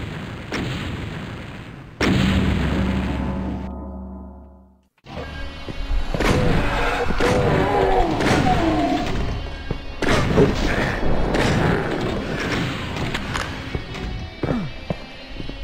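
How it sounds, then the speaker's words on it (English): Piercing Shotgun fire in DOOM, heard as loud, booming blasts in quick succession over dense game music and effects, after a brief drop to near silence. "Piercing Shotgun sounds nice."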